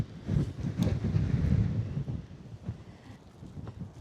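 Gusty wind by the sea rumbles and buffets against the microphone in uneven low roaring surges, with no voices heard.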